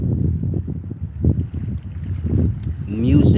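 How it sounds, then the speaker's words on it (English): Wind blowing outdoors, gusty low rumbling buffets on the microphone that rise and fall across the clip, with a voice speaking near the end. "I know it's a little windy"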